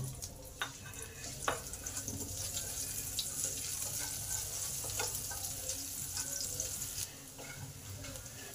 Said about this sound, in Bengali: এটাকেও একটু লাল লাল করে ভেজে নেব